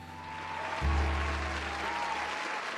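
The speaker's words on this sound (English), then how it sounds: "cheers and applause rise among the pub's patrons" Pub patrons in the video game The Letter cheer and clap, a dense, steady wash of applause that holds across the whole span, with a low thump near the start.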